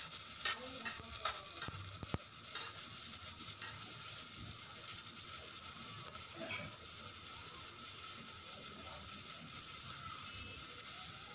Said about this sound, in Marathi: कांदा चांगला गुलाबी रंगावरती आपण परतून घेऊया।